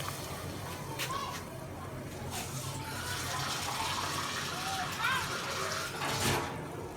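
Water pours steadily from a glass into a pot for mutton pulao rice, a continuous splashing gurgle under quiet background hiss.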